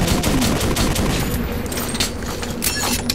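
Dense, continuous gunfire in the post-apocalyptic shooter Metro 2033, a loud sustained rattle of rapid shots with no pauses across the whole stretch.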